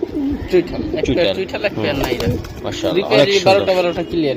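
Pigeons, including Giribaz, Pankhi and Beji breeds, coo repeatedly nearby in soft, throaty rolling calls, with a person talking over them.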